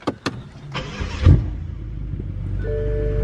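A BMW F10 M5 with a JB4 tune clicks, cranks and fires up with a loud rising rev, then settles into a deep steady idle; the engine is already warm from driving.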